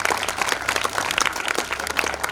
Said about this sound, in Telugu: క్లాప్స్ ఒకసారి గట్టిగా.